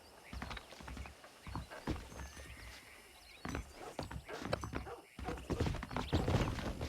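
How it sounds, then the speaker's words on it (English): Horses in Red Dead Redemption clip-clop at a steady walking pace, hooves thudding close by, with an occasional whinny and soft background ambience. "The horses are saddled up over here."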